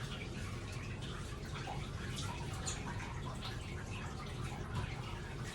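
Water drips and trickles steadily as a wet doodle's freshly rinsed coat is squeezed out by hand after a bath, a continuous close splashy patter with no talking.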